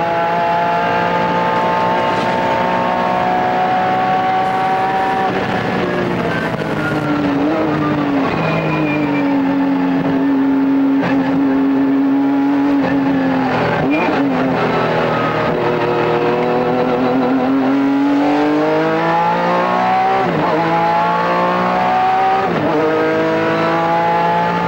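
A Honda NSX race car at the 1994 Le Mans 24 Hours, heard on board as the engine screams loudly, rising and falling through repeated gear changes and revs.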